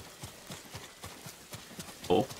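Horse hooves clip-clop in a steady, even rhythm in the Ghost of Tsushima video game, moderately close over a low background wash, ending with a brief louder vocal burst.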